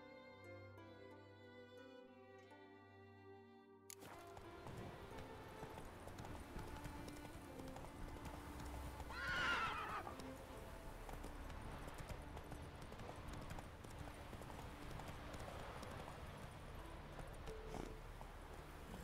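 The horse Roach galloping in the video game Witcher 3, a steady rhythmic clip-clop of hooves running nearby, with a brief whinny partway through, following a short stretch of game music.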